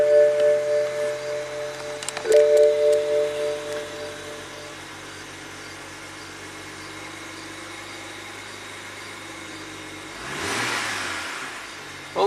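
A BMW 335i twin-turbo engine with a no-boost fault idles with a steady hum and some irregular knocks early on. It swells briefly near the end, as if revved or restarted.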